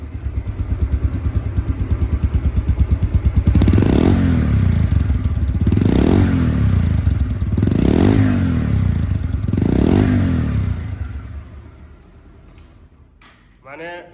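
Close by, a 2023 Bajaj Pulsar DD motorcycle idles with a rapid, steady beat, then gets four evenly spaced throttle blips before the engine winds down and fades near the end.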